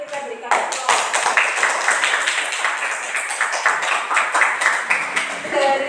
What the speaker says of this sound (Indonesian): terima kasih untuk kelompok 1, kita berikan aplaus